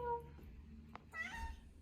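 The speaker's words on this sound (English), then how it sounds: "This is the deepest meow she's done in a while." A house cat lets out a deep, drawn-out meow, close and fairly quiet, one main call with a short extra sound before it in a quiet room.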